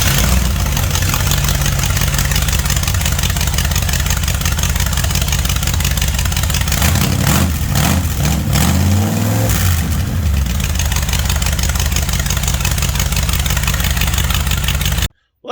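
An old truck engine, freshly started on a swapped carburetor and a new distributor, runs loud and close with a rough steady idle, swells through a brief rev midway, then cuts off abruptly at the end.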